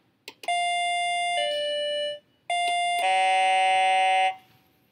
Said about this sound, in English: Let's pick a chime.